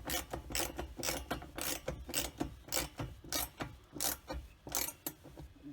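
A ratchet tightens a bolt that pulls a D-ring into a modular storage panel in a 5th-gen Toyota 4Runner. It clicks in short, rhythmic bursts of sharp pawl ticks, close and clear with no talk.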